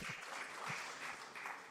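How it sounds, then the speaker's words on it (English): Attendees at an international conference clap for themselves in a short, faint burst of scattered applause that sounds distant and soft, with no speech over it. "Clap for yourselves."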